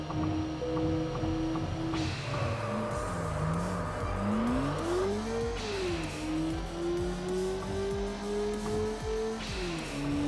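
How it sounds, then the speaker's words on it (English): A rotary-engined car in the Wangan Midnight racing game accelerates hard through repeated gear shifts, its rising engine note climbing and dropping over ten seconds, with a brief tire squeal. "the rotary doesn't quite sound like a rotary in this game."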